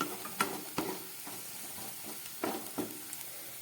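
Onion stalks with salt and turmeric frying in a pan, a faint steady sizzle broken by several soft scrapes as they are stirred, heard close and quiet with no talking.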